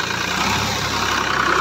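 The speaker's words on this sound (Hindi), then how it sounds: "तो किसान भाइयों देखो ये 3630 ट्रैक्टर है।" A New Holland 3630 tractor engine runs at a steady, loud idle close by, a continuous rough mechanical rumble with no talking.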